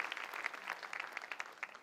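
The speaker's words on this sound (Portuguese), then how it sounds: "E um aplauso para esse povo." An audience at a church sermon applauds, a brisk patter of many clapping hands, moderately quiet and continuous, with no talk over it.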